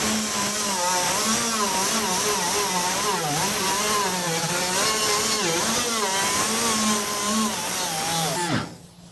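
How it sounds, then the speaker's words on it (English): A power tool disc scuffing paint off a car body during corrosion protection work, a loud, continuous high whine with a wavering pitch that holds steady before abruptly cutting off near the end. "There's a lot of different ways that you can scuff the paint or remove paint."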